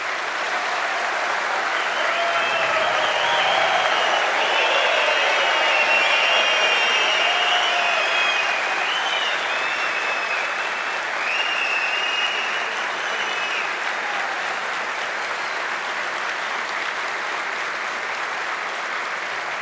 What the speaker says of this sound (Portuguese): solicito novamente uma salva de palmas